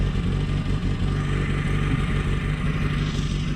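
Peugeot 205 GR from the mid-1980s, phase 1, with its engine already running: a steady, close mid-pitched idle with a constant rumble and no pauses, heard alone without voices.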